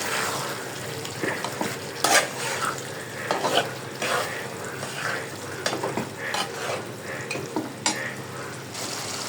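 Beef korma sautéed in a pot, with continuous sizzling and repeated scraping stirs of a spoon against the pot, close and busy throughout.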